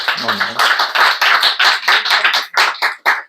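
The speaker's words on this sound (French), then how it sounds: "On peut l'applaudir chaleureusement." An audience at a lecture claps warmly to welcome a guest speaker, a run of roughly a dozen distinct, loud claps in quick succession that cuts off abruptly, with a voice briefly heard at the start.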